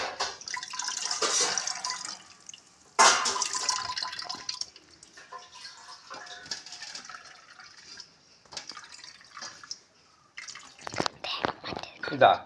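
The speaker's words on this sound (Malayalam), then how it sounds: "നല്ല അരിപ്പയിൽ നന്നായിട്ട് അരിച്ച് ഇങ്ങനെ എടുക്കണം. ഇങ്ങനെ എടുത്ത് അതൊന്നുകൂടി പിഴിയണം." Coconut milk strained through a sieve and squeezed by hand for appam, with liquid dripping and splashing in intermittent bursts close by and quieter stretches between.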